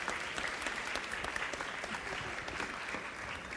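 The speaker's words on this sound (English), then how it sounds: "Big round of applause." Steady, dense applause from a large audience at a summit keynote fills the room at an even level for several seconds, with a faint crowd murmur underneath.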